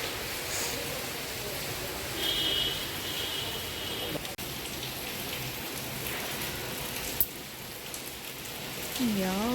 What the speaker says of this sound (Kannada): ಭಯಂಕರ ಮಳೆ ಬರ್ತದೆ ನೋಡಿ ಫುಲ್ಲು ಫುಲ್ ಮಳೆ